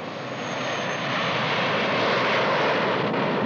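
Aircraft engine drone in flight, a steady loud roar that swells slightly and holds without a break, no voices present.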